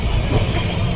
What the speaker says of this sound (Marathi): AC ट्रेन आहे ही.